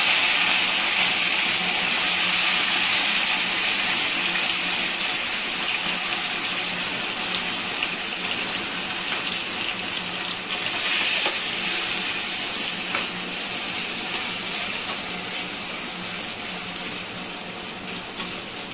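Taro leaves go into a hot pot tempered with green chilli for cooking with a hilsa fish head, bringing a loud, steady hissing sizzle that holds throughout and eases slightly toward the end, with no talking.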